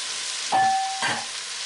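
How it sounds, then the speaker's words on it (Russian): Soaked sweet potato pieces fry in a pan for a low-carb soup, giving a steady close hiss with two brief louder scraping bursts as they are stirred. "Сейчас сладкий картофель маленечко. В этом... во всем пожарим"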